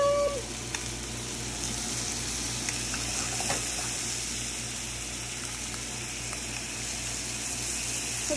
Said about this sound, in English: I just flipped on nice, beautiful crust, and the kiss side, get some butter